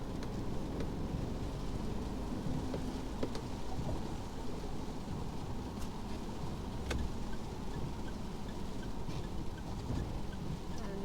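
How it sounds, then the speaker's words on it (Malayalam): Steady rain falls outside in China, a dense continuous patter with occasional distant rumbles of thunder and faint birds in the background. "മഴയാട്ടാ പുറത്ത്."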